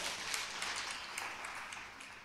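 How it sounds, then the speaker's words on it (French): A church congregation applauds during a Sunday morning worship service, a faint, distant, steady patter of many hands. "On peut applaudir le Seigneur puissamment ce matin"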